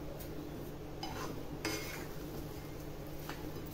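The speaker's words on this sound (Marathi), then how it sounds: "साखर टाकल्यावर हे चांगलं असं मिक्स करून घ्यायचं" Sugar stirred into sweet sheera with malai in a metal pan, quiet scraping and a few light clinks of a spoon against the pan over a low background hum, no speech.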